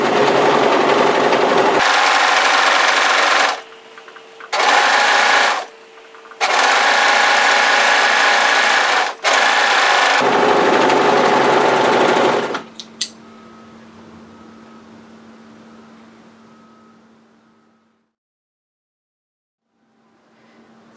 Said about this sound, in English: Now we're going to go to our overlocker and overlock tidy that edge